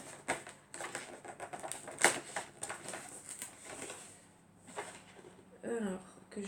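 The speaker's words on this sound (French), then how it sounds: "Je suis en train de tout déchirer." Advent calendar packaging is torn open at close range in a series of crisp, papery rips, with one louder tear partway through, amid faint handling noise.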